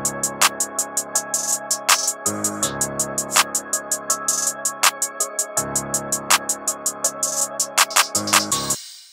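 Programmed drum loop built in FL Studio, with Effectrix stutter-reverse effects and reverb, plays alone: tight rapid hi-hats over punchy kicks, booming 808 bass notes, and swelling reversed tails before drops.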